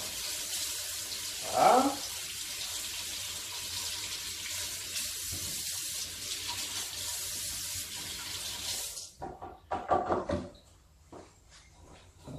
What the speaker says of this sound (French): Alors on prend les bananes bio, important aussi. Hein. Donc on les rince.